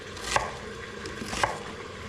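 A knife chops onion on a cutting board for an Italian venison sandwich, with two distinct sharp chops about a second apart over a quiet background.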